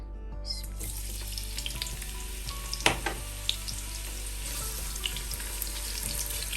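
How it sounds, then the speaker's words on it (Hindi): A large onion hits hot oil for a chicken and pea pulao, bursting into a loud close sizzle that settles into steady crackling with small pops and stirring clinks; no talking. "ऑयल गर्म हो गया, इसमें ऐड करेंगे 1 अदद बड़ी प्याज।"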